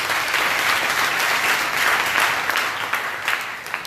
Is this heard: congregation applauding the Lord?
yes